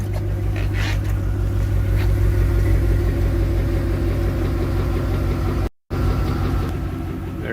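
A swapped truck engine idles steadily in a GT500, a continuous close rumble with a faint repetitive tap riding on it, one brief dropout near the end.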